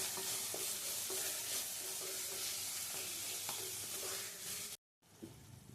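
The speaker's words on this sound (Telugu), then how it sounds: "బాగా కలుపుకొని మూత పెట్టుకొని సాఫ్ట్గా మగ్గించుకోవాలండి టమాటాని." Tomatoes cooking in a pan with salt for jackfruit-seed coconut masala gravy curry, stirred with regular scraping strokes over a loud continuous sizzle, close up, then a brief silent gap before the frying resumes more quietly.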